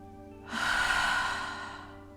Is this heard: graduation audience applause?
no